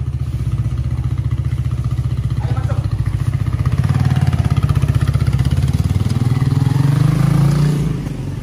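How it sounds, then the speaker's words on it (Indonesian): A motorcycle engine idles close by with a rapid putter, then is revved, the pitch rising and swelling before easing back down. "Jangan digeber-geber, nanti bangun."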